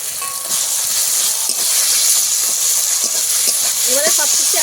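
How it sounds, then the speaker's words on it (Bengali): Spice paste with tomato and ginger paste sautés in a pan for a bogo fish curry, a loud, dense sizzle and hiss with intermittent stirring clatter throughout. "একসঙ্গে ভালো করে কষিয়ে নেব যতক্ষণে না মশলার কাঁচা গন্ধ যায়"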